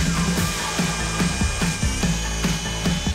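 A Hikoki SDS-Plus rotary hammer bores a hole in wood with a loud, continuous whine. A rapid hammering pulse runs under it the whole time.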